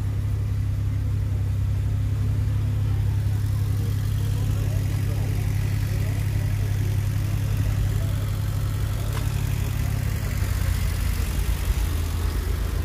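A Damas or Labo minivan's engine starts and settles into a steady, close idle at an outdoor car market, a low continuous rumble that holds for several seconds.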